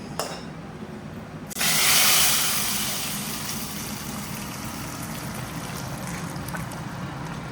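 Tempering spices are poured into a pot of khichuri, setting off a sudden loud burst of sizzling that peaks sharply, then gradually settles into a steady hiss over a low background rumble.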